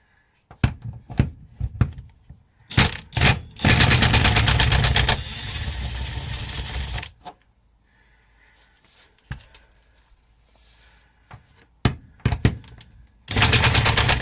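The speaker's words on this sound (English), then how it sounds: "So we're going to take off the nuts for the support." Bursts of rapid air-tool rattling, a pneumatic wrench loosening nuts on a Triumph Stag gearbox support, with sharp clanks and knocks between loud runs, close and echoing in a workshop.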